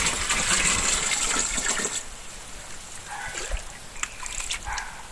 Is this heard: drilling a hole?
no